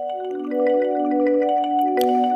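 Marimba-based granular pad processed with delay, light room reverb and trimmed highs holds a steady, mellow chord with soft repeating grain pulses and a brief brighter burst near the end, heard alone.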